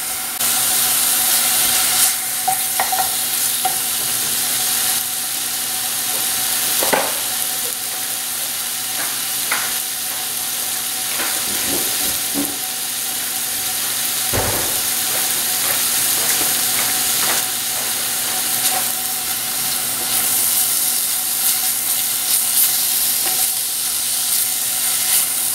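Mushrooms sauté over medium heat, producing a steady, moderately loud sizzle and hiss with occasional scrapes and clacks of a utensil against the pan; no one speaks.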